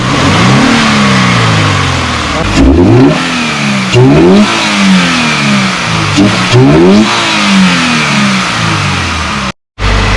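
A Subaru BRZ flat-four engine with a GrimmSpeed cold air intake revs repeatedly in sharp bursts, pitch climbing and dropping with each throttle blip, loud, close and continuous with no talking.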